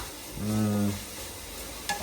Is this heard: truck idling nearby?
no